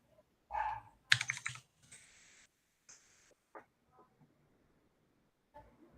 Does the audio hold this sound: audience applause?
no